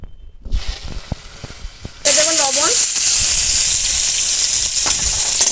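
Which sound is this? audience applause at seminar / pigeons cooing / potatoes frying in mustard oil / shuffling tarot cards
potatoes frying in mustard oil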